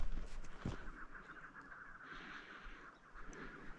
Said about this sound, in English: there are birds calling and busting everywhere